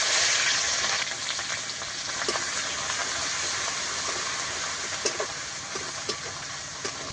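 Onion paste and five-spice frying in hot oil for a fish curry, a steady loud close sizzle with occasional crackles and a few light stirring scrapes, no talking.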